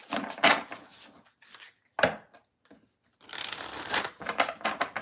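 Close tarot card shuffling, a couple of papery riffles and rubbing sweeps separated by brief pauses, with no voices.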